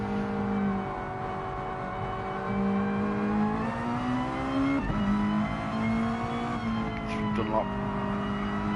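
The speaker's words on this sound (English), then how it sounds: "Real fast chicane, hard on the brakes now for this second gear hairpin." Mazda touring car in a racing video game, its engine droning steadily with pitch shifts as it brakes for a hairpin and accelerates again, with someone talking over the engine throughout.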